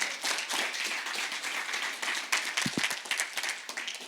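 A church congregation claps and applauds steadily throughout, a dense, even roar of many hands with no talk over it.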